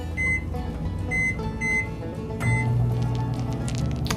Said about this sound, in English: we're going to pop it back in the microwave